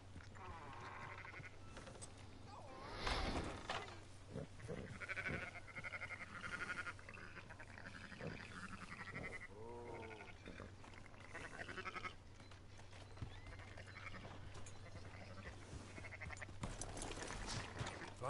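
In Red Dead Redemption, sheep bleat repeatedly in wavering calls over a steady low hum, with brief voices in between and a louder bleat near the start.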